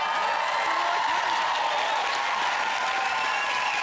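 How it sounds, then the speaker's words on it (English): A studio audience on a British comedy talk show applauding and cheering, a steady even wash of clapping that holds at an even level throughout, without a break. "It's no good cheering."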